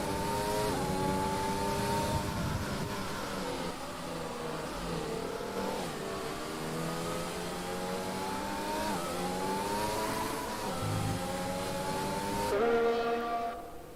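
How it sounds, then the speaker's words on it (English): Race cars in F1 2020 qualifying on a wet Hungarian GP track whine through repeated upshifts and downshifts, the engine pitch climbing and falling in a steady, continuous stream. "16 minutes left to shock qualifying, and the drivers come out on track."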